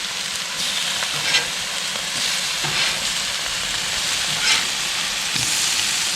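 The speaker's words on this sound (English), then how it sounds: "we're doing them, flipping them in the same sequence that we laid them down" Pieces of freshly caught sheepshead fish fry steadily in a hot pan, a loud continuous sizzle with faint crackles and small bumps from flipping, close and alone with no talk.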